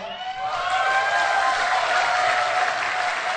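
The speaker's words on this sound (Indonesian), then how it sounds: "maksudnya tepuk tangan yang rame" Lively applause from an audience of women at a motivational event, a dense, sustained clapping wash with a faint tonal hum beneath it and no talk over it.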